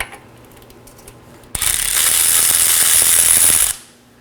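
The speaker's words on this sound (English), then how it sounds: "There are 2 21mm right. I'll be breaking these free first." A ratchet clicks rapidly and loudly for about two seconds, close up, while breaking free the 21mm brake caliper bracket bolts on a 2018-2024 Chevrolet Equinox 1.5L L4. The clicking is heard alone, with quiet before and after.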